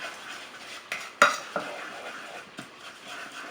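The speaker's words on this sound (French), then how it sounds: "on tourne constamment parce que sinon le caramel va être brûlé" Caramel being stirred in a pan for caramelized pineapple chicken, with a few soft scrapes and light clinks of a utensil against the pan over a quiet background, including one sharper knock near the middle.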